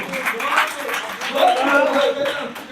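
An audience at a Bhopal kavi sammelan poetry gathering breaks into dense, sustained applause, loud and continuous with a slight swell midway, mixed with crowd noise and voices.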